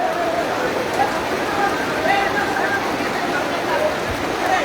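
A constant hiss of rain fills the scene, steady and fairly loud, with faint voices mixed in.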